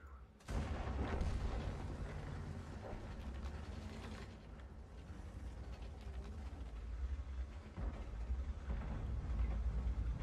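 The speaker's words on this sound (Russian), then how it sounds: "Смотри, без остановки меня стреляет." Tank cannon fire and clanking machinery in World of Tanks, a sharp loud boom at the start followed by steady rumbling engine and mechanical noise, with another heavy hit near the end.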